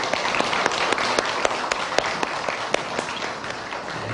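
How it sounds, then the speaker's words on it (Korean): Audience applause in a university chapel service honoring the choir and orchestra, a steady wash of many hands clapping at moderate distance with sharp individual claps popping out, continuous for the whole stretch. "우리 성가대하고 우리 관현악하는 친구들에게 다시 한번 감사의 박수하겠습니다"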